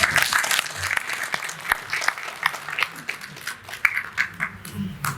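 Audience applause at a Hindi poetry recital at G P Pant in Delhi, a steady patter of many hands clapping fairly close for several seconds with no voices over it.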